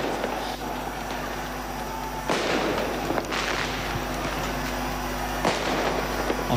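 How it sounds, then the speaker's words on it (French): Ceremonial cannon salute fired at a presidential arrival at the Palais de la République, heard as sharp booming reports at roughly regular intervals over a steady crowd and outdoor background hum. "On voit les coups de canon qui sont en train d'être tirés."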